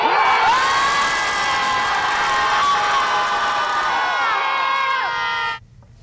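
A group of people scream together at a scream club in Chicago, one loud sustained collective scream lasting about five seconds before it cuts off abruptly.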